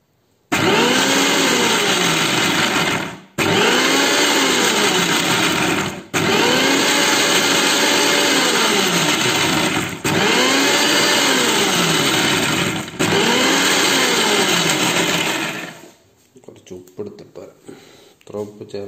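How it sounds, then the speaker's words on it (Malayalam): An electric mixer grinder whirring loudly while grinding raw mango chutney with coconut and bird's eye chillies, run in five bursts of a few seconds each with short pauses, ending in quieter rattling. "മിക്സി"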